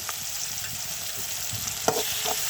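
Ginger-garlic paste and softened tomatoes frying in a pan for cauliflower masala, with a steady loud sizzle and occasional spoon scrapes while being stirred.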